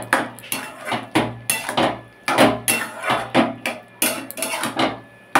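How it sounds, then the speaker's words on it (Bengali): A spoon stirs two spoons of sugar into boiled Malabar spinach in a pan for a Bengali dish with hilsa fish head, making repeated close metallic clanks and scrapes in an uneven rhythm, with no voices. "2 চামচ চিনি দিয়ে ভালো করে মিশিয়ে দিয়েছি"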